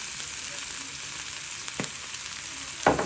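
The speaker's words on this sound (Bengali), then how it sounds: "এখন এগুলো দিয়ে চিকেনটা একটু আমি ভেজে নেব হালকা ভাজা ভাজা করে নেব" Chicken pieces fry in a pan with salt and black pepper, sizzling steadily up close with two sharp bursts as the pieces are stirred or moved.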